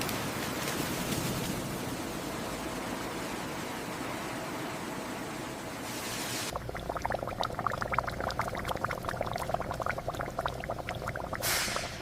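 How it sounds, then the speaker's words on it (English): Cleaned octopus cooks in massive industrial boiling systems on a non-stop production line, with a dense, steady hiss of boiling and pouring water that shifts to harsher bubbling crackle halfway through, loud and continuous. "The cleaned octopus enters massive boiling systems built for non-stop production."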